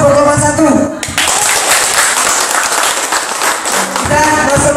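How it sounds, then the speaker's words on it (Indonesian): A room of participants at a village cooking training claps for the first group, a loud dense burst of applause lasting about three seconds, with a voice speaking just before and after it. "Kita aplaus untuk kelompok 1."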